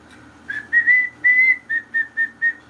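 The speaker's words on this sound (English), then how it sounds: "It's just a whistle." Whistled tune from the Licence to Kill film soundtrack: about eight clear, sustained whistle notes in a steady, even rhythm, loud and close with nothing else over it.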